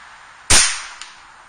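A Kral NP03 .25 caliber air rifle fires a 26 grain Predator Polymag pellet at a target 65 yards away, a single sharp close crack followed by a faint distant tick of impact.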